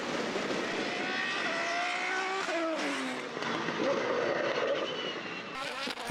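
Formula BOSS race cars lapping the Mondello circuit in Ireland; loud engines whine and sweep in pitch as cars pass close, and the engine roar runs steadily throughout.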